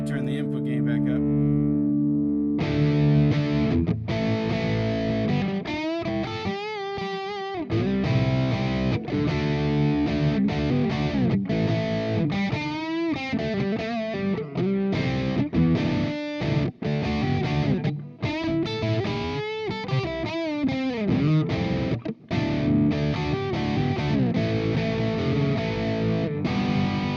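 Electric guitar played through an amp's gain channel with input gain turned up and a reverb pedal, giving a loud distorted tone with fast melodic runs and bends, nearly continuous for the whole stretch.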